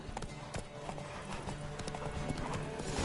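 Horse hooves gallop in The Witcher: Wild Hunt with a rapid, rhythmic clip-clop of fairly faint, evenly spaced beats over a steady game background.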